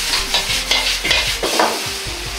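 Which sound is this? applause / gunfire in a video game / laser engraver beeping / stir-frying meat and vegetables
stir-frying meat and vegetables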